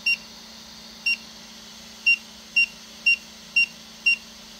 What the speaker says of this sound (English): And then it's going to beep saying, hey,